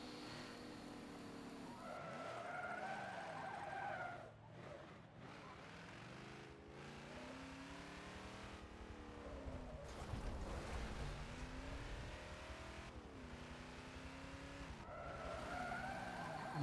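Cars drift and skid through the closing corners of a Forza Motorsport 7 racing game, engines droning loud and steady with rising tire squeal that swells and fades across the run, no voices.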